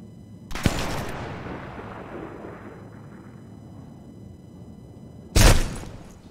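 Video game gunfire: two sharp, loud bursts, one near the start and one near the end, each followed by a long fading rumble, with quiet in between and no talk.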